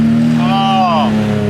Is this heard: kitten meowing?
no